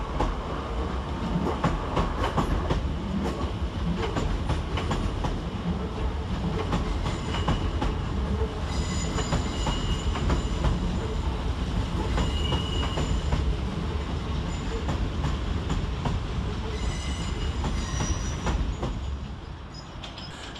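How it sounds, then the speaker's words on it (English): Two coupled Southeastern Class 465 electric trains pull out of London Cannon Street station, a continuous loud rumble of wheels with clickety-clack rhythm and occasional squeals, steady for the whole stretch with no talk. "Departed next out the station is 465158 and 465901 with the 1012 Southeastern service to Gravesend."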